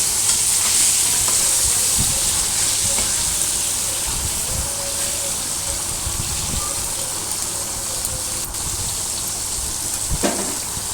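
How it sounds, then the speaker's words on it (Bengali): Pointed gourd pieces frying and being stirred in hot oil give a steady close sizzle, with soft scraping knocks from the spatula scattered across the stretch and no talking. "আবার পটলটাকে ভালো করে নাড়াচাড়া করে নিয়েছি। লাল লাল হয়ে এসছে"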